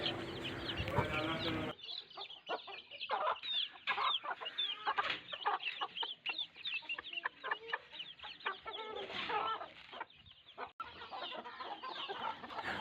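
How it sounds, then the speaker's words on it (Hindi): A flock of chickens clucks and chatters busily while pecking at feed pellets, with dense overlapping soft clucks and scratching, close by, after a brief burst of louder noise at the start. "देखिए मुर्गियाँ कितनी शौक़ से खाती है ये गोलियाँ"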